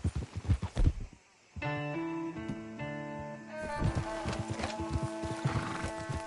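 Horses in Red Dead Redemption 2 clip-clop in quick hoofbeats and whinny nearby, the steps pausing briefly before a held musical tone and more hooves resume; no voices.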